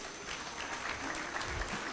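Audience applause rings out at the launch ceremony of the ARSO Mark of Quality during the African Organization for Standardization General Assembly, a steady, fairly faint patter of clapping hands heard throughout with no voices on top.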